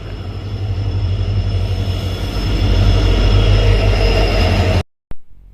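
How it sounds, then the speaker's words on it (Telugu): The Hubli Express pulls into a station with a loud, continuous rumble and clatter of rolling stock and a steady metallic hum, which then cuts off abruptly near the end. "సో ఇది నేను ఎక్కాల్సిన ట్రైన్ ఇప్పుడు"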